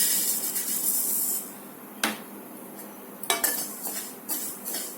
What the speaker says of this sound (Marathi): मेथी दाणे भाजायचे